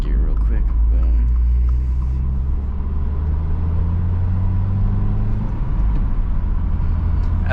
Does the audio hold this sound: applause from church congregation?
no